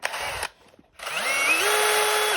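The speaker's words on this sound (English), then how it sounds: "This is only a drill, it is not impact or anything" A non-impact power drill on low gear whirs in a short burst, stops briefly, then starts again and spins up to a steady, fairly loud run that holds to the end.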